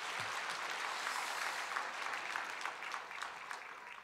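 Church congregation applause during a worship service, a steady wash of clapping that stays fairly faint and even for about four seconds.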